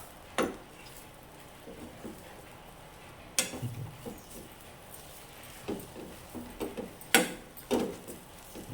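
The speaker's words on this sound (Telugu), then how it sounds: "ఈ ఆయిల్తోటి మనం ఫ్రై చేసుకోవాలి." Kariyalu frying in oil in a pan, with sparse metallic clanks and scrapes of a utensil stirring over a faint, low sizzle, close up and no speech.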